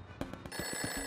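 A telephone rings after a number is dialed: three quick trilling bell bursts followed by a sustained electronic ring tone, moderately loud and alone.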